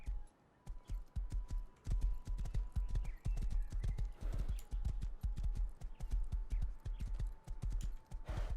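Steady clip-clop of a horse's hooves in the survival game Rust, a brisk even rhythm of sharp close hoofbeats with no voices, underlaid by a faint steady tone.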